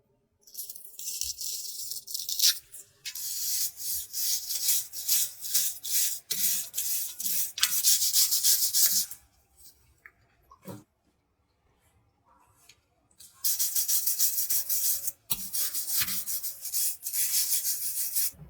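A used brake rotor for a BMW M-Performance brake conversion being brushed clean, with close, scratchy rasping strokes in bursts separated by short pauses and a quiet gap partway through.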